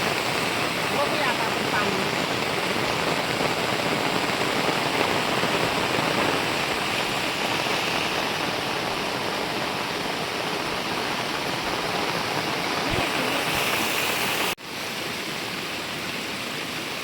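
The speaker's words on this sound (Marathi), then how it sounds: "तो तो धबधबा जोराचा येतो" A loud, constant roar of rushing water from a waterfall fills the whole stretch, broad and unbroken, with a brief cut near the end.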